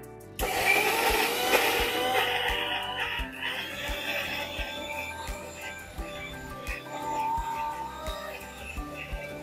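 A mixer grinder grinds a spice paste for steamed colocasia stolons with prawns, a loud, close, continuous motor whir with a rattling, churning texture that starts abruptly and runs steadily, fluctuating slightly in pitch.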